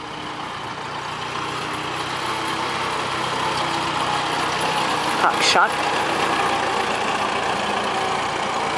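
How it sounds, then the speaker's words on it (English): A vintage McCormick Farmall tractor engine runs steadily and smoothly throughout, a continuous near idle-like drone with a brief louder burst midway, while people talk over it. "See how smooth that engine sounds? That's a good running one."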